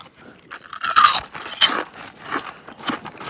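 Someone bites into colourful Indian crisps known as finger chips, giving a few loud, close crunches followed by softer chewing crackles.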